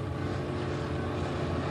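Super stock drag racing cars at a 1984 Pomona World Finals starting line, engines revving with a dense steady roar that holds loud and continuous throughout, no speech heard.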